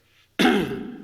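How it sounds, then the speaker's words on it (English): A single sharp cough from a man in a replayed news clip bursts in after a near-silent lead-in, loud and close, then trails off over the remaining moment. "Cough."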